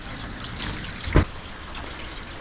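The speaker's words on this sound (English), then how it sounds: "if this actually gets rid of all the water excess here" Water runs off a dusty solar panel fitted with a small plastic cleaning clip, making a steady trickling hiss with one brief, louder splash near the middle.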